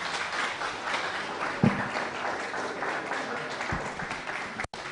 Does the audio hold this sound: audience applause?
yes